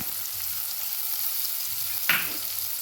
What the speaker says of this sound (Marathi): आता मी गॅस बारीक करते आणि याच्यामध्ये हा जो एक मोठा कांदा आपण बारीक कट करून घेतला होता तो टाकायचा आहे